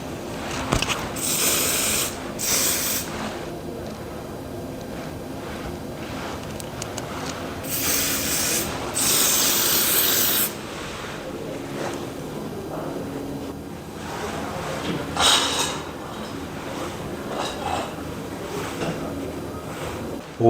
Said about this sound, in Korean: 스프레이를 뿌리면서 모양을 조금씩 디테일을 잡아주시면 됩니다